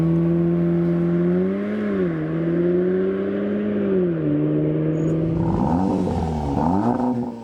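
Standard exhaust on a 350 hp Cupra Ateca ABT, a steady close engine drone that swells and dips with revving, rising sharply toward the end; no speech.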